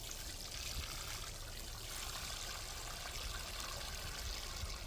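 Steady trickle of fish-fertilizer water poured over a newly planted aronia berry bush in a food-forest garden, a soft continuous pour outdoors with no talking.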